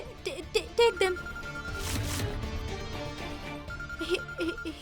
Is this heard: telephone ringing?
yes